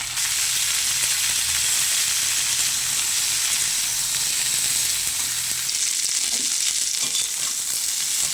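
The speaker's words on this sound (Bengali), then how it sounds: "একটু লবণ আর হলুদ দিয়ে কপিগুলো আমি ভালো করে ভেজে নেব।" Cauliflower pieces fry in hot oil with salt and turmeric, a loud, steady sizzle with bright crackling hiss that holds evenly throughout, shifting slightly as the pieces are stirred partway through.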